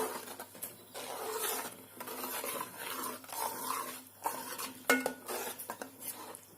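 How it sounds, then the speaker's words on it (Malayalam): Jaggery and grated coconut are stirred in a pan for a sweet poha snack, repeated scraping strokes with occasional utensil clinks, close and moderately quiet. "നല്ലവണ്ണം തേങ്ങയിലേക്ക് പിടിച്ച് വരുന്നത് വരെ നമ്മളതിനെ ഇളക്കിക്കൊണ്ടിരിക്കണം."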